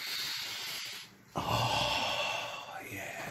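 Someone sniffs a freshly unwrapped PSP UMD case, a close, breathy inhale of steady airy hiss that cuts in sharply partway through.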